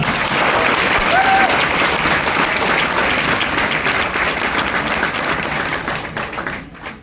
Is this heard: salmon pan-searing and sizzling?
no